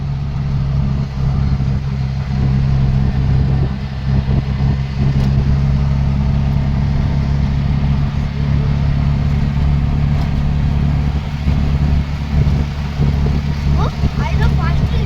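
An auto rickshaw engine drones steadily as it climbs a small ghat road near Tasgaon, a loud, low rumble with a rattly edge that runs throughout while people talk over it.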